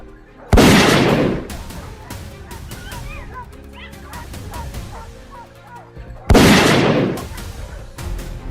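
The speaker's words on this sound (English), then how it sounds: "When the first pigs came into sight, the order to fire was given." Loud gunshots at wild boars during a night hunt on a farm in Georgia, two sharp close blasts several seconds apart with animal squeals and yips between.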